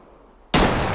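A single loud hunting rifle shot in the video game Way of the Hunter, a sudden blast that holds and fades through the rest of the moment.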